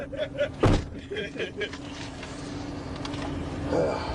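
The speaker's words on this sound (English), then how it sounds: "Hey, you close the door." A car door shuts with a single sharp thump early on, close by, followed by a quiet engine hum and rustling, with people talking in the background.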